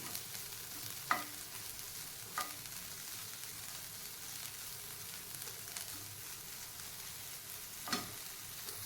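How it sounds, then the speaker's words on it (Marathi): Egg bhurji with coriander being stir-fried in a pan, a soft, quiet sizzle with occasional sharp clicks of a spatula against the pan. "शेवटी आपल्याला यामध्ये टाकायची आहे कोथंबीर आणि दोन मिनटं परत हे छान परतून घ्यायची आहे"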